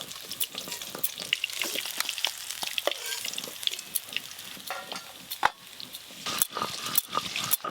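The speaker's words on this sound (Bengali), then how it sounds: "দেখতে দেখতে এই মাছগুলো ভাজা হয়ে গেল" Pieces of rohu fish fry in hot oil, a dense and continuous close-up sizzle full of sharp pops and spatters that come in uneven bursts.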